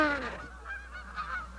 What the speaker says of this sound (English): Look at all the Canada geese that are there.